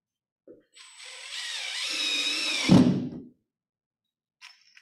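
A regular power drill drives a screw into drywall during a drywall installation and repair workshop, whirring for about two and a half seconds with a rising pitch, then a brief thud as it stops, close and clear.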